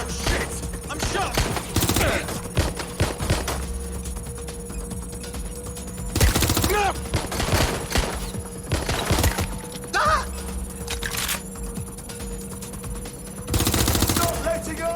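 Gunfire in the video game Watch Dogs Legion: repeated sharp gunshots and short automatic bursts crack at irregular intervals, some close and loud, over a steady background hum, with no voices heard.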